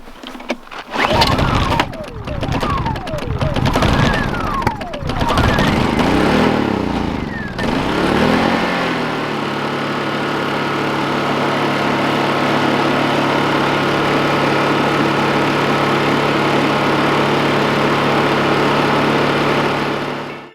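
A Honda EU2000i generator, just after a carburetor cleaning, is pull-cranked several times in quick strokes, then catches and settles into a steady, loud, even run nearby.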